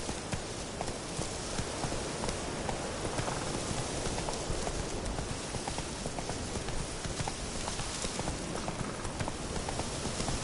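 Roach, the horse in The Witcher 3, gallops in a steady, rapid clip-clop of hooves that continues throughout over a dense, constant game soundscape of rain-like noise.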